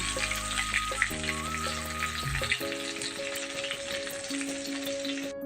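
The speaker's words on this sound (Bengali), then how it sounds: "লাল লাল করে পটল ভাজা নিলাম আমরা" Pointed gourd pieces fry in a pan, a steady close sizzle crackling throughout while faint tonal hums shift in the background.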